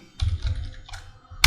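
Keys on a computer keyboard clatter in quick bursts, a run of close, crisp clicks with brief pauses between them, ending on a louder sharp strike.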